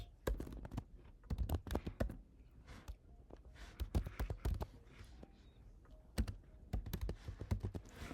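Quick, uneven typing on a computer keyboard at close range, bursts of clicking keystrokes with brief pauses, including repeated key presses as a command is deleted.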